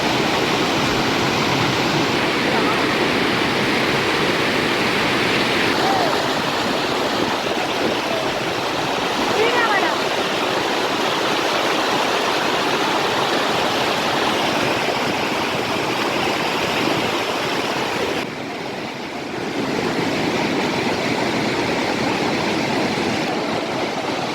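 A waterfall roars in a loud, constant broadband rush that fills the whole stretch, with a brief dip near the end. Voices may be buried beneath it.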